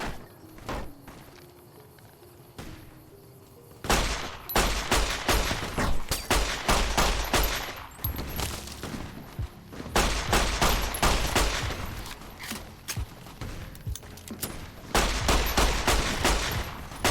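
Gunfire from the video game Fallout: New Vegas: loud bursts of shots in rapid volleys come in several clusters, with quieter stretches of ambient game noise between them.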